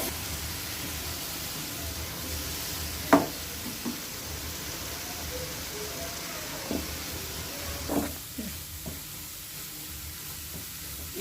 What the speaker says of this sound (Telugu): ఇది నెయ్యిలో మనం ఫ్రై చేసుకుందాం ఒక 5 మినిట్స్.